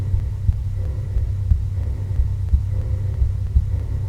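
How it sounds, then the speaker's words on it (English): A low, steady heartbeat thumping about once per second under a constant deep rumble, looping through the Atlantis level of the Tomb Raider video game on PC. "if you listen closely, you'll even hear the sound of a heartbeat being played for the entire level"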